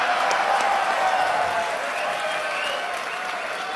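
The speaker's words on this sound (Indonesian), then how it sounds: "Tepuk tangan buat Pak Tito." A large audience at a religious gathering applauds a guest, the head of immigration at Soekarno-Hatta airport, with dense, steady clapping that carries on evenly throughout and eases slightly toward the end.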